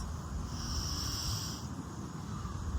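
Slow, deep breathing close to the microphone, a raspy, airy inhale that swells and fades, heard alone with no talk.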